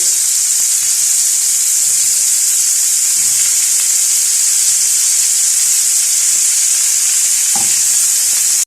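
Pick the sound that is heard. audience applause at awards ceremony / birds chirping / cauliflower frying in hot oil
cauliflower frying in hot oil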